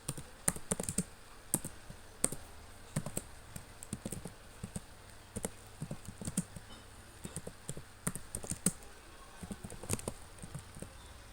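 Code being typed on a computer keyboard, close irregular bursts of crisp key clicks with short pauses between runs of keystrokes.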